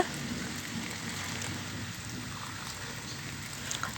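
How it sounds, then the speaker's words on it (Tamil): Steady rain has been falling since morning, a dense, even hiss of drops heard close and alone, with no voices over it. "இங்கே வந்து காலையிலேருந்து நல்ல மழை பெஞ்சிட்டு இருக்கு."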